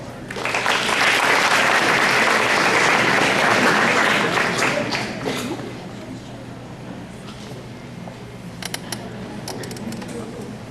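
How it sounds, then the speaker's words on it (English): Graduation ceremony audience gives a loud, dense round of applause for about five seconds, then the clapping thins out and fades under room noise with a few scattered claps. "Please give a round of applause to Miss Goers"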